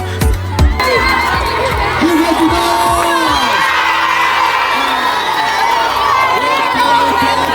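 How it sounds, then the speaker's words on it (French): A crowd of about 400 school students gathered in a schoolyard, shouting and cheering loudly together, with whoops and excited chatter rising and falling close by, and a few sharp shouts standing out at the start. "toute une foule de près de 400 élèves s'est rassemblée autour de nous"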